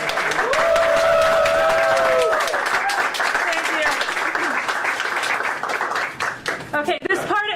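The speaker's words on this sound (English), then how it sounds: "how about a round of applause for her?" An audience claps in applause at a live Robert E. Lee time capsule opening, a dense burst of clapping that tapers off, with a person speaking over it and a whistle near the start.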